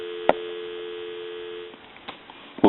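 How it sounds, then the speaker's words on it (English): A touchtone telephone receiver gives a steady, unbroken dial tone for about a second and a half before it cuts off, followed by a few handling clicks and knocks. "Give you some dial tone."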